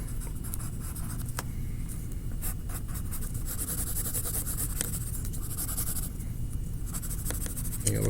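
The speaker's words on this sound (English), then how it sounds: "Finish my drawing up." Pencil or marker scratching steadily across paper while a lion picture is finished, a continuous close dry scribbling texture with short strokes and brief pauses, no voices.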